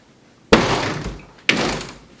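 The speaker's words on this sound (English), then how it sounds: "That's someone knocking on the door." Two loud, separate knocks land on a door about a second apart, each thud followed by a short ringing decay.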